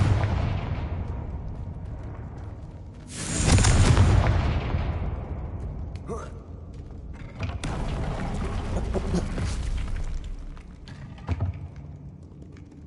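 Confringo fire-blast spells cast in the video game Hogwarts Legacy, a loud explosive burst with a fading roar, followed by further bursts and crackling impacts, each standing alone without talk.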